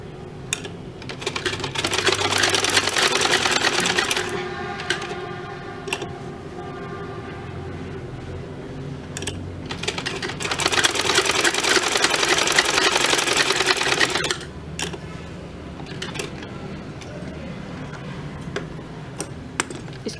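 Sewing machine stitching a baby frock neckline, two sustained runs of fast, steady mechanical whirring and ticking separated by a pause with scattered clicks and handling noises, close and without talk.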